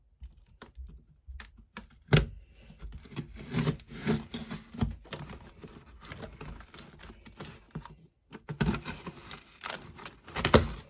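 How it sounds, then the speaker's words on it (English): Cardboard packaging of a Thrustmaster T-Flight HOTAS One joystick for Xbox and PC being opened, with close, uneven crinkling, rubbing and tapping in irregular bursts and a brief pause near the end, with no talking. "So let's get it unwrapped."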